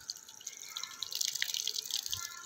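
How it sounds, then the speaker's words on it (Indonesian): A water tap runs during wudhu ablution, a steady, light hiss of thin falling water splashing and dripping close by, with no voices. "matikan keran kalau sudah"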